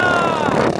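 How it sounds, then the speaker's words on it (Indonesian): Racing boat engine idling after start-up before a boat race heat, a steady buzzing motor drone close by with no talk over it. "Sampan sudah menyalakan mesin."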